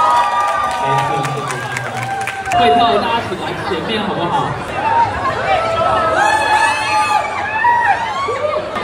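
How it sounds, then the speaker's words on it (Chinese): A street dance crowd at Xinyi District chatters and cheers around a loud announcer, with scattered shouts and applause rising in the background while she talks over them. "这个时候要有一点掌声加尖叫"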